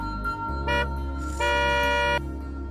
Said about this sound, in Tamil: பாரு, கரெக்டா வந்து ஹார்ன் அடிக்கிறாரு